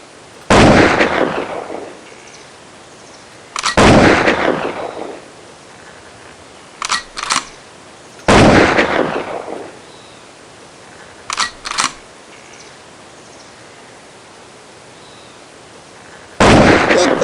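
Several loud, sharp rifle gunshots from the King of the Hill hunting game, fired singly with long gaps and a couple of quick double shots, each ringing out in a decaying echo.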